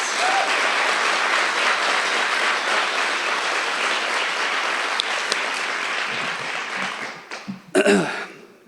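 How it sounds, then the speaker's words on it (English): An audience at a nursing white coat ceremony for a Doctor of Nursing Practice CRNA program gives sustained, dense applause that fades out near the end, followed by a brief handling noise. "Can we please give them a round of applause?"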